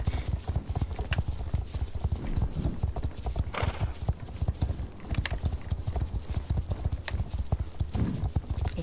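Horse hooves clip-clop in a steady, rapid rhythm in the video game Star Stable Online, loud and close, with a brief whinny mixed in.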